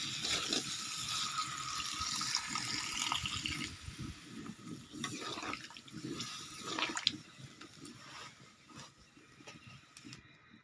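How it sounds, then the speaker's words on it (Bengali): About a bowlful of water pours into a pot of spice-coated potatoes for vegetarian aloo dum, making a continuous close splashing and trickling sound that tapers off near the end. "এর মধ্যে আমি দিয়ে দেবো 1 বাটি মতো জল"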